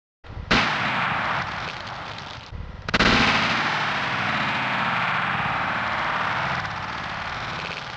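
12 gauge Remington 870 shotgun firing 1 oz copper solid slugs in an ammo test, two sharp, loud close blasts each followed by a long, harsh, saturated roar.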